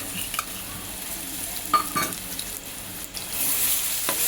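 Ginger garlic paste sautéed in oil for chicken biryani, a close, steady sizzle broken by a few spoon scrapes against the pan, with no talking.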